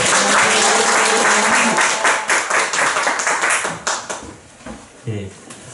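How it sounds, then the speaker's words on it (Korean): An audience at a legal education lecture claps heartily to welcome the lecturer, loud dense applause that thins into scattered claps and fades out. "김태현 변호사님 힘찬 박수로"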